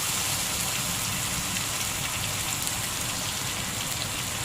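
Ginger, garlic and onion paste sizzles in hot oil with fried onions in a pan, a loud steady crackling hiss with no pauses.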